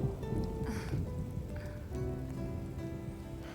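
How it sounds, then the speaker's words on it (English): Rain falling in the video game Final Fantasy VII Remake, a steady even patter on surfaces filling the scene at moderate level, with faint tonal game sounds drifting through. "Rain."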